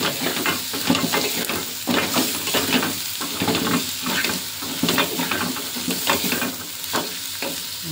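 Tomatoes cook in a pan with two spoons of chili powder for a curry, left to simmer, producing a steady close sizzle with frequent stirring scrapes throughout and no talking.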